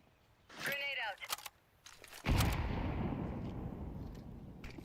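A grenade in Counter-Strike 2 going off with a sudden heavy boom whose rumble sustains for a couple of seconds, preceded by a short voice and faint clicks; quiet overall.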